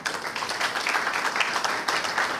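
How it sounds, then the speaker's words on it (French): A crowd applauds in a sustained, dense clatter of many hands, fairly loud and even throughout with slight swells, no clear talk over it. "vous devriez plutôt les encourager par les applaudissements"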